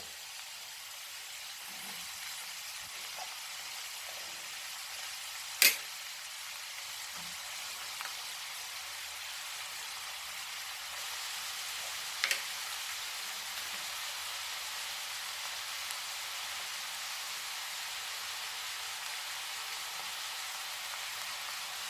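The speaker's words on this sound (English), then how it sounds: "Now we will add our onion to it." Onion sizzling in a pan for Goan dry beef keema, giving a faint, steady frying hiss with a couple of small clicks and pops and no voices.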